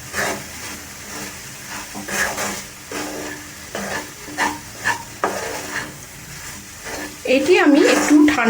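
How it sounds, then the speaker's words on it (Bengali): Roasted semolina is stirred through a hot pan for a sweet, giving a steady scraping, sizzling rhythm of repeated strokes up close, with a louder clatter near the end. "তারপরে এর মধ্যে আমি মিশিয়ে দেব রোস্টেড সুজি।"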